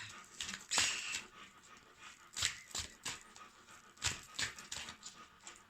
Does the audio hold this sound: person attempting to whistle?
no